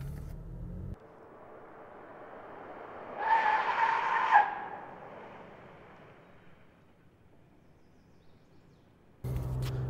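A car braking hard from 50 mph on pavement with ABS off, a tire skid that rises for about a second and then fades, set between steady engine and road noise.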